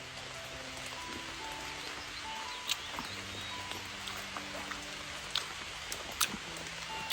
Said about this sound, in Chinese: 今天有点下雨，不好上树摘